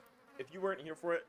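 A housefly buzzes close by in short bursts, faint and partly masked beneath a person talking over it.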